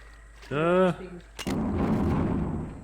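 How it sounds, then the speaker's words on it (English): In the Dreamcast game Carrier, an underwater explosion lands as a sudden sharp blast followed by a dull, rumbling wash, right after a short burst of a voice. "They have a different animation for underwater explosions"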